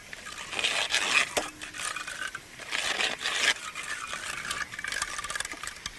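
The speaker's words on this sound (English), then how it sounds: "we grind this through to make a bit of a vegetable puree" Vegetables ground through a hand food mill into a puree in a Calabrian kitchen, a close, scraping, churning metallic sound in uneven rhythmic passes with occasional light clinks.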